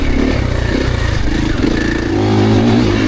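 A 2026 Triumph TF450C motorcycle engine roars loud and close during a ride, holding a throaty drone as the revs rise toward the end.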